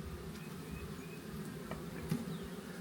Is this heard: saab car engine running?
no